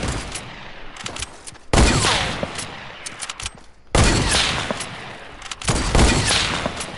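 Bolt-action sniper rifle gunfire in the video game Fortnite rings out in a loud burst of three sharp, booming shots spaced a couple of seconds apart, each trailing into a noisy rumbling decay.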